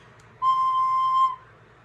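A single sustained high C from a wind instrument, held steady and clear for about a second, then stopping, alone with no talk.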